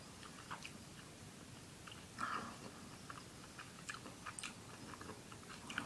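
Soft, close chewing of Star Wars Jedi Gels gummy candy, with quiet bites and squishy mastication sounds, faint throughout.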